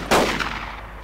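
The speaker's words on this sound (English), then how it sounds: "We were shooting at different guys." A single loud sniper rifle shot in the military shooter game Project Reality, a sharp close crack with a rolling echoing tail that fades over a second.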